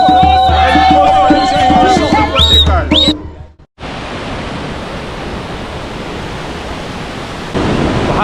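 Victoria Falls in Zimbabwe, the main falls, produce a steady, loud roar of rushing water that fills the second half after a burst of mixed tonal sounds, continuous and broadband with a slight rise toward the end.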